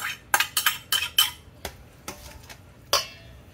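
Drained peas and carrots tumble into a casserole dish with a quick series of clinks and scrapes of a spoon against the dish, close and clear, then a few sparser taps.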